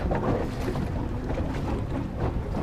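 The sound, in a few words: Flux Marine F115 electric outboard boat idling, hull, wind and water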